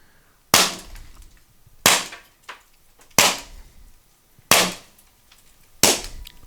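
Five sharp, loud pops from a Mercury Rise MUB43 pepper ball launcher, fired one at a time at a steady pace of roughly one shot every 1.3 seconds, each with a short decaying tail and no talk between them.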